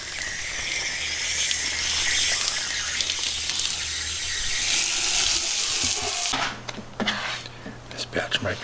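Steady rushing of running water, like a tap pouring into a sink, continuous for several seconds before cutting to quieter clatter.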